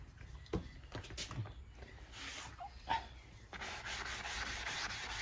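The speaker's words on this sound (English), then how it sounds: "we'll get this all sanded down" Sanding a wooden stock from a Savage .22 LR single-shot rifle being stripped of its stain-and-clear-coat finish: uneven scratchy rubbing strokes with a few knocks, then a steadier continuous abrasive hiss near the mic.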